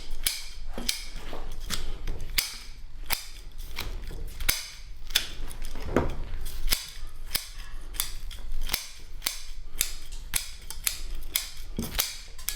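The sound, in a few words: scissors cutting roots of a Japanese maple bonsai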